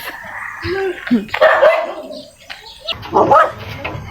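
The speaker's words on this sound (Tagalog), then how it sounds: "Ayun yung isa kong aso" A dog barks and yips several times nearby, with a few whimpering sounds between the barks.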